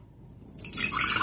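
Homemade apple scrap vinegar liquid pours into a quart jar, a faint dripping that swells into a steady, brighter splashing stream close by.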